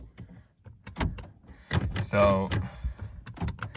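Power door locks on an ordinary used car, one side failing, clack through several sharp mechanical lock-and-unlock thunks close by, with a person speaking briefly between them.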